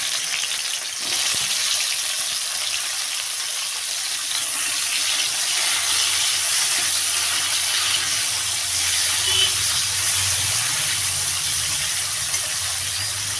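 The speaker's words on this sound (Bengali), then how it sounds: "এবারে কড়াই গরম করে দিয়ে দেব সর্ষের তেল। তেল গরম করে দেব" Salted teasel gourd pieces fry in hot mustard oil in a kadai, a steady, loud sizzle with fine crackle throughout and a slight swell in the low bubbling partway through.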